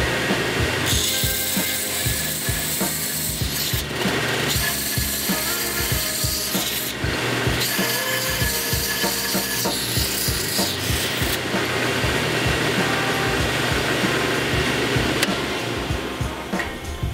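A hand file rasps a chamfer onto the sharp edge of a bolt for a shop-made leveling foot, with repeated close, loud scraping strokes in a steady back-and-forth rhythm, broken by a few short pauses.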